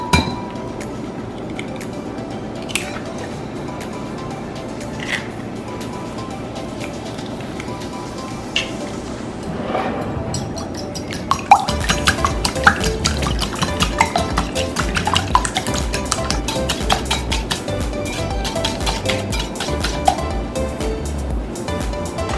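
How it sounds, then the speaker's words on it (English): Eggs whisked in a small bowl for pancake batter, a steady run of light clinking and stirring strokes against the bowl that grows busier and denser partway through, with no talking. "Whisk egg,"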